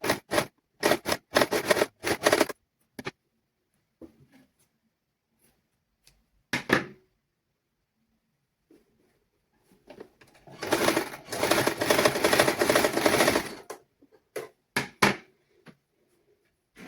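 Sewing machine stitching children's clothing in a tailoring lesson, short rapid bursts early on, then one longer steady run of stitching, with quiet gaps between.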